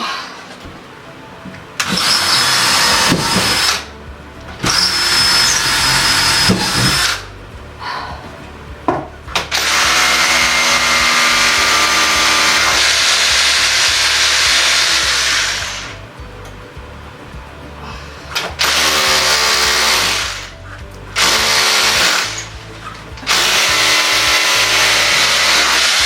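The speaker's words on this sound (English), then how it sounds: "These are my last two brackets. I've just got to screw them in." Power drill driving screws to fix the last two brackets of a hallway bookcase into pre-drilled, plugged holes, loud bursts of whirring in several runs separated by short pauses.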